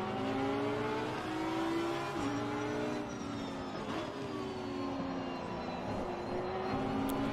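A racing car engine in the game Assetto Corsa Competizione drones steadily at high revs, its pitch shifting slightly as it shifts gears, loud and close with no talking.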